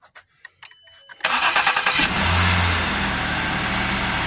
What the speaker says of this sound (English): go ahead and turn the car on